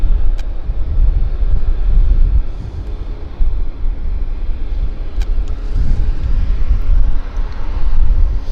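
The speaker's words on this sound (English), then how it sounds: "We've got a Q400 on approach." Air Canada Q400 turboprop airliner on approach to Vancouver airport, a steady distant low engine drone with broad rumble and some wind noise running throughout, no voices.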